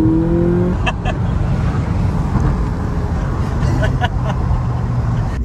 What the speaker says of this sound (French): t'as mis un coup d'accélération, t'es insolent